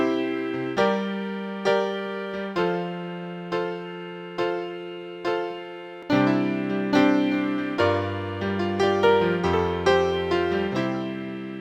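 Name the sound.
chord progression in C: I, minor v, IV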